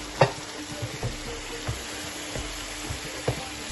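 Sliced fresh tomatoes sizzle steadily in a hot pan, with a few soft knocks and clacks as they are stirred.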